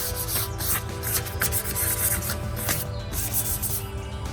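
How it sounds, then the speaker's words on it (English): Steady, continuous scratchy rubbing of sandpaper worked by hand over a wooden chair, with quick repeated back-and-forth strokes, close and fairly loud. "I'm done sanding."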